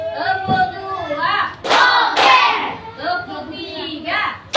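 Children clapping in a counting pattern in a classroom, two sharp bursts of claps between stretches of an adult leading them by voice.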